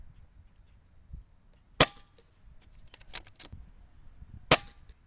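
Two sharp shots from an Umarex Notos air rifle firing Crosman hollow point pellets, each a crisp isolated crack about three seconds apart, with faint lighter clicks of handling in between against a quiet outdoor background.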